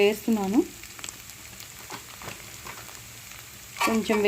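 Garlic frying in oil in a pan for an amaranth leaf curry, a soft continuous sizzle with light scraping, heard between short bursts of a person talking at the start and end.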